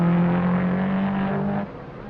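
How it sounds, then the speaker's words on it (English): A Ferrari race car at the 1957 Sebring 12 Hours endurance race drones with a steady, loud engine tone that holds, then drops away sharply near the end as the car passes. "There's warm support from this quarter as the Ferrari bounces back into the race with Gregory behind the wheel."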